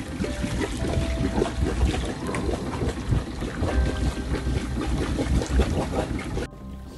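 Barnacle Buster flushing solution spills out of a sailboat engine's exhaust pipe with the engine running, a steady close gurgling splash over a low engine rumble that cuts off near the end.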